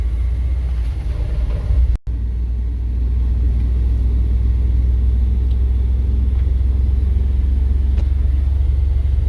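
A car driving in oncoming traffic gives a constant low engine rumble and road roar, loud and unbroken apart from one very brief dropout early on.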